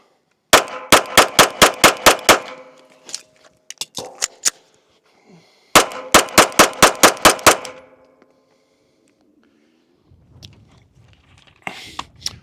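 A pistol fired at a target in two rapid strings of about eight sharp, loud shots each, evenly spaced, separated by a pause with a few scattered clicks and handling noises.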